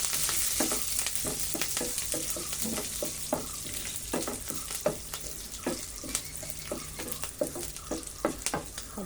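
Curry leaves sizzle and crackle in hot oil for wheat upma, with a steady frying hiss and frequent sharp pops and spatters throughout.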